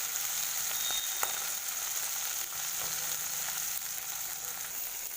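Fish fries in a wok with garlic and onion, giving a constant, fairly loud hiss of sizzling oil with a few faint clicks, and no voices.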